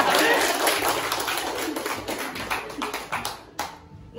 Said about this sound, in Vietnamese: Ôi vỗ tay ơi.